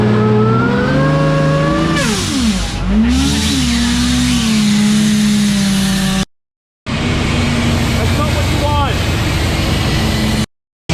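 Supercharged Ford AU Falcon engine revving hard on a dyno, loud rising and falling engine pitch with sweeping whine, broken by two short sudden silences.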